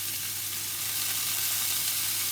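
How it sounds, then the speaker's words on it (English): Rosemary chicken sizzling on a grill, a steady close crackling hiss that continues evenly throughout without speech. "we're going to cook the other side now for another 3 minutes"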